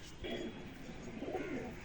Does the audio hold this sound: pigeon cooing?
yes